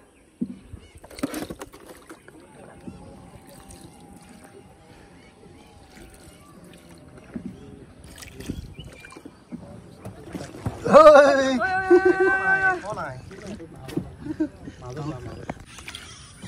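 A wooden dugout boat crosses Chandubi Lake in Assam, with soft water sloshing and splashes along the hull, while people talk and one voice rises loudly partway through.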